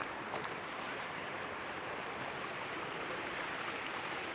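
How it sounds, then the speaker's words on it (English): Water flowing all around the crooked bridges near the Ermitage in Arlesheim, a steady, even rush of moderate loudness with no talk. "Hope you can hear the water all around us by now."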